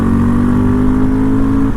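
A loud dirt bike engine, a KTM 500 or Honda XR650L, held at high revs, a steady buzzing whine close to the microphone.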